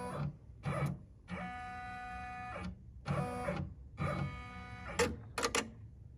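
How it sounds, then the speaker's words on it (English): A multi-needle embroidery machine whirs through several short mechanical bursts with a tonal motor whine and needle movement, running in stops and starts, with sharp clicks near the end. "The needle will drop on which position it's on, and it will automatically do like a little circle."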